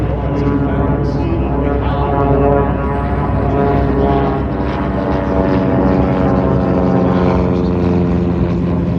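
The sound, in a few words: de Havilland Chipmunk propeller airplane flyby at airshow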